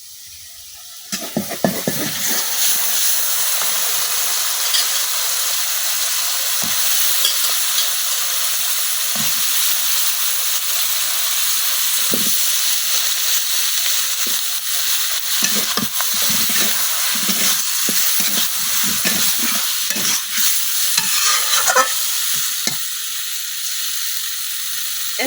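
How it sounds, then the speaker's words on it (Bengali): Cut cucumber frying in spice paste in a village kitchen, a loud continuous sizzle broken by irregular scraping and clacking as the pieces are stirred around the pan. "ক্ষীরাগুলো কিন্তু আমি কিছুক্ষণ কষাই নিচ্ছি।"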